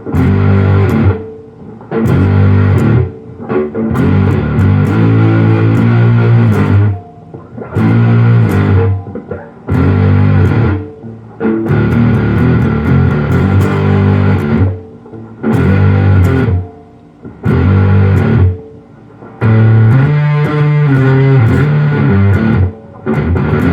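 Electric guitar played through a Pro Co RAT2 distortion pedal with distortion high and filter near half, giving loud, saturated chord bursts in repeated phrases separated by short silences.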